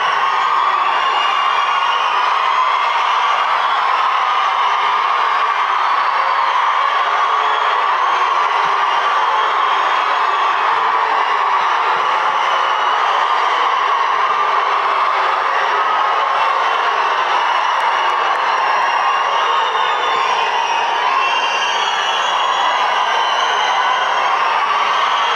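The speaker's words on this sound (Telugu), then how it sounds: "మీరు అరిచే అరుపులు ఎవరి గుండెల్లో రైళ్లు పరిగెత్తాలో వాళ్ళ గుండెల్లో రైళ్లు పరిగెత్తాలి." Fans crowd a film pre-release event and roar continuously, a dense, loud wall of shouting and cheering that holds steady throughout without a break or any clear single voice.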